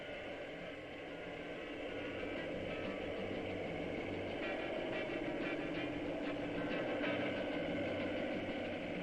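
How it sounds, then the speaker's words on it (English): A small engine drives the out-of-balance shaft of a vibrating roller compacting sandy loam on a road project, a steady mid-level engine drone with a rapid vibrating buzz, heard alone at moderate distance. "A combination of weight and rapid vibration applied by a small engine driving an out-of-balance shaft shakes the grains of sand into place."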